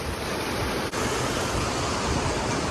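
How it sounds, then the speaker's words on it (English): Flush water rushing down a concrete alleyway in a dairy barn, fed under pressure through floor piping from a silo; a steady, loud broadband wash that runs unbroken throughout with no voices. "the flush comes up through the floor from piping over from that silo over there, and it runs down through the alleyway"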